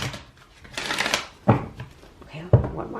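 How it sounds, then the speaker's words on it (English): Tarot cards riffle and flutter in a couple of soft shuffles, with sharp taps as the deck settles, under quiet talk. "I'm going to give it one more shuffle."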